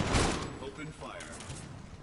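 Gunfire erupts in an online multiplayer shooter match, a burst of loud close shots at the start followed by scattered thuds and further bursts, mixed with players talking over voice chat.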